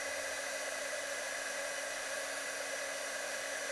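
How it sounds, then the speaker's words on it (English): A heat gun runs steadily at close range for heat embossing a stamped card, a constant loud whooshing blower hum with no pauses and no talking. "I'm just going to heat emboss. And you'll see it change."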